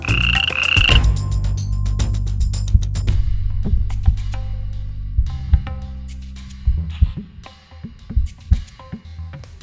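Frogs croak loudly and rhythmically in repeated deep pulses, several animals calling together close by, with a brief bright tone at the start and no talk.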